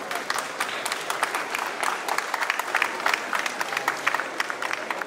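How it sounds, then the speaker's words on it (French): Spectators at a hospitality contest applaud the competitors as the timed challenge ends, a lively, crisp round of many hands clapping at a steady rate with occasional sharper individual claps standing out. "C'est fini, vous pouvez les applaudir."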